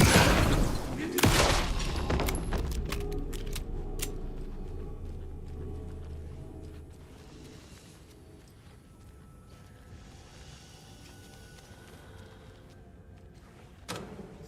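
Shotgun blasts in the video game Alan Wake 2: a sharp, loud report at the start followed by a decaying rumble and clattering handling noises, with another distinct crack near the end.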